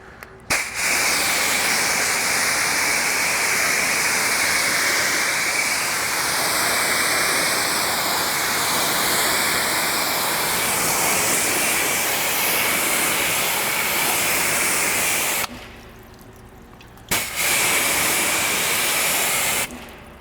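Steady loud hiss of water spraying and rinsing over a car body panel during detailing, a continuous rushing wash that cuts off briefly near the end before resuming.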